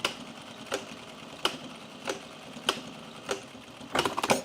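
Sewing machine working a fake bar tack on men's jeans, heard as a slow series of single sharp clicks about every 0.7 seconds, ending in a quicker cluster of clicks, with a faint room hum between.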